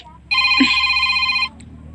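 A cellphone rings with a bright electronic ringtone, one sustained burst of a little over a second, loud and close, then cuts off to quiet room tone.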